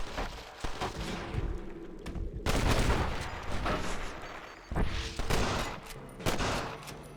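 Repeated gunfire bursts from a Red Dead Redemption gunfight with TNT barrels, loud and dense volleys rolling continuously with sharp peaks, no talk.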